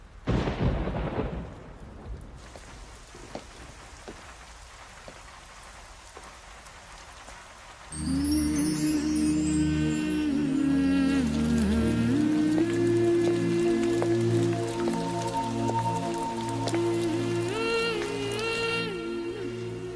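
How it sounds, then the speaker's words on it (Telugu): Rain falls steadily as a soft hiss, with a deep rumble of thunder at the very start, before a heavy wash of music swells in and dominates the rest. "వర్షం పడుతోంది"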